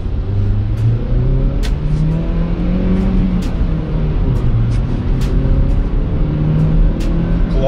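A Hyundai Creta's 1.6-litre engine with manual gearbox hums and pulls steadily as it drives, the revs rising and falling through gear changes, heard from inside the cabin.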